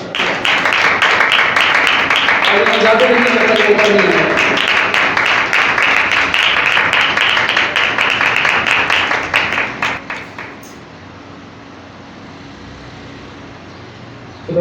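Church congregation at a Sunday service applauding loudly, a dense, sustained clapping that fills the room for about ten seconds before fading out, with a voice briefly speaking over it.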